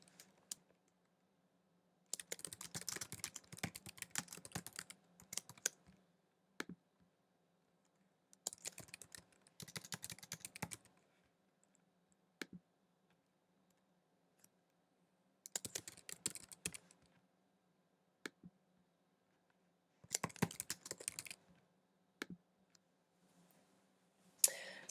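Quiz question typed on a computer keyboard, quiet close bursts of rapid key clicks in four clusters separated by pauses, with a faint hum underneath.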